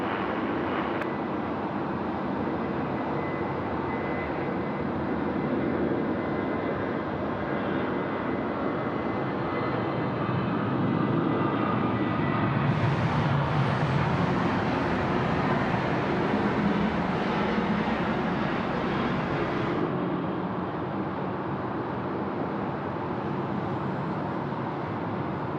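An airliner landing at Sydney Airport at night, a long steady roar of jet engines with a brighter whine swelling midway, fairly distant and sustained for the whole stretch.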